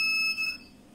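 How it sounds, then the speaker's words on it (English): A shrill, steady electronic buzzer tone from a DIY magnetic door alarm sounds close and loud for about half a second, then cuts off into quiet. "the buzzer will make sound"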